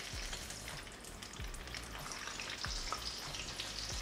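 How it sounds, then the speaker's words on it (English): Coated shrimp for udang mayo frying in hot oil, a steady soft sizzle with occasional bubbling pops and a few low knocks as pieces are stirred, close and without speech. "I'm gonna fry the whole thing."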